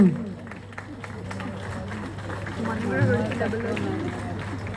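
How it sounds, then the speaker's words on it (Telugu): Men in the audience at a Telugu devotional discourse on the Shiva–Parvati wedding clap together, a rapid patter of many hands that swells after a spoken opening and carries on under a steady hum. "ఒక్కసారి మగవాళ్ళు స్త్రీలకు క్లాప్స్ కొడితే పార్వతీదేవి ఆనందపడుతుంది"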